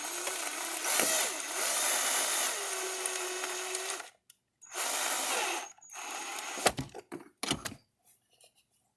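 A small tab is screwed down while an EMP Shield device is mounted, with bursts of a power driver whirring steadily in several runs. Short pauses separate the runs, and the clip ends with a few sharp clicks and taps.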